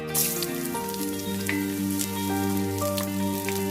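Chopped garlic sizzles and crackles steadily in hot olive oil, a loud close frying hiss with a low tonal hum running underneath, as a coconut pumpkin and shrimp dish gets started.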